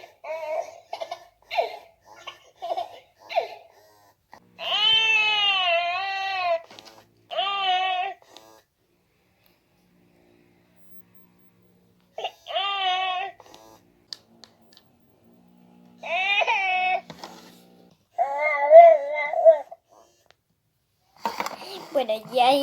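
A Nora Laffies Happy Babies toy doll makes electronic baby sounds, a series of short babbling and crying bursts and longer wailing phrases, separated by quiet gaps over about twenty seconds.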